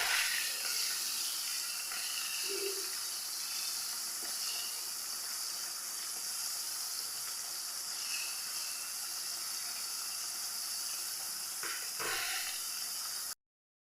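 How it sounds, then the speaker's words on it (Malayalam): Mango pieces frying in oil give a steady, continuous sizzling hiss close by, with a few faint clinks and soft knocks along the way before the sound cuts off abruptly. "അപ്പം ഇനി ഇത് എണ്ണയിൽ കിടന്നിട്ട് ഒന്ന് റെഡിയായി വരട്ടെ"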